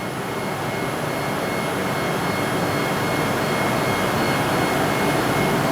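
Kern CNC milling machine cutting a 3D surface, a steady dense whirring roar of spindle and cutting with a faint high tone, continuous and unchanging throughout.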